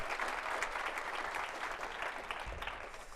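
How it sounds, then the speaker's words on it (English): An audience applauds Darren on guitar at a community performance. The clapping is sustained and even, with a thick crowd texture that holds at a moderate level throughout the few seconds. "Can we get a round of applause for Darren on guitar?"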